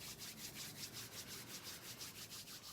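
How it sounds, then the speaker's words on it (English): Hands rub briskly together in a quiet room, a soft rhythmic swishing of skin on skin repeating about five times a second, close and faint, with no voice. "Maybe rubbing the hands together can be a nice way to wake yourself back up"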